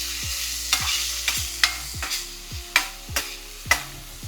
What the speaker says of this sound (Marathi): आता आपण मस्त सगळं परतून घेऊया